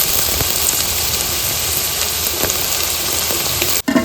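Carrot, beans and capsicum sizzle steadily in a hot pan while being fried for veg fried rice, a continuous loud crackling hiss that cuts off briefly near the end.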